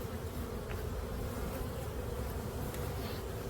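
Honey bees drone steadily around a hive being checked before winter, a dense, continuous buzz heard close with no voices.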